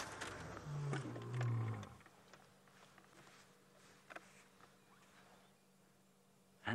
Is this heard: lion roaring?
yes